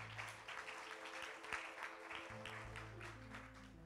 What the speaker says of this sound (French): Acclamons pour la gloire du Seigneur Jésus-Christ.